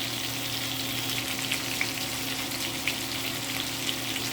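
Steady oil sizzle of grouper (lapu-lapu) frying in a pan, close and constant, with faint occasional pops and no talking.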